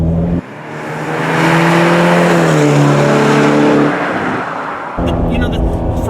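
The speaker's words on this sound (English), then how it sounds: "I love the acceleration. It's incredible how fast it is." A Ferrari California T accelerates hard, its turbocharged engine note rising in pitch and swelling loud and close through several seconds, then dropping off abruptly before a rougher burst of engine sound returns near the end.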